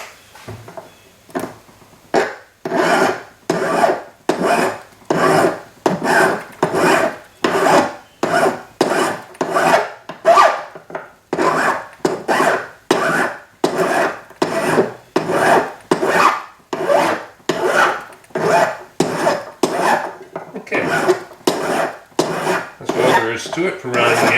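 A metal file rasps steadily across the edge of a Keum-Bo cuff bracelet, rounding it in about thirty even back-and-forth strokes, loud and close with no talk.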